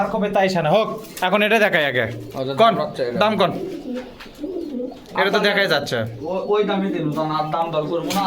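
Pigeons coo steadily in the background of a busy pigeon market in Bogura as people haggle over prices nearby, their voices often louder than the birds.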